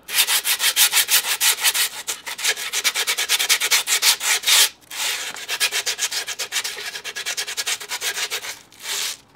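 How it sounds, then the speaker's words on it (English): A skateboard deck edge is rubbed with a scrap of grip tape used as sandpaper, fast rhythmic back-and-forth scratching strokes in close bursts with brief pauses between them, and no voices. "Just flip the grip tape up like this and actually just sand it."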